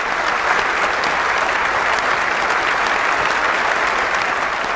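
Sustained, steady applause from a studio audience on a Telugu quiz show set, dense clapping filling the room at an even loudness throughout with no talk over it.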